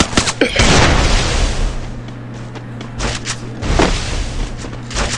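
Heavy shotgun blasts boom repeatedly in a Garena Free Fire Clash Squad match, loud punchy shots spaced unevenly over a low steady hum.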